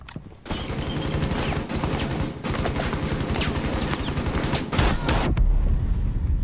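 Rapid automatic gunfire in Rainbow Six Siege on PC, long dense bursts of closely spaced shots from about half a second on, a brief gap near the middle, then a final loud stretch that cuts off abruptly.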